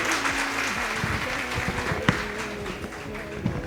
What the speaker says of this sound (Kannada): ಎಲ್ಲರೂ ಜೋರಾಗಿ ಒಂದು ಸಲ ಕೃಷ್ಣನ್ಗೆ ಚಪ್ಪಾಳೆ